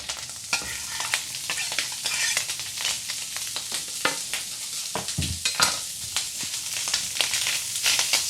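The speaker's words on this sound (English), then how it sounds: "the bacon has it's been maybe 2 minutes and it's frying up really nicely" Strips of bacon sizzle steadily in a pan as chopped green onion goes in and is stirred through, with a dense crackling fry and occasional scraping stir strokes, close and continuous with no talk.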